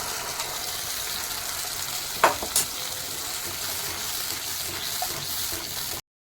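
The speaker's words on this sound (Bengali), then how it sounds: "মধ্যে দিয়ে দিচ্ছি একটু ফেটানো টক দই" Whisked sour yogurt goes into a hot frying pan. A steady soft sizzle runs throughout, broken by a couple of brief clinks and splashes midway.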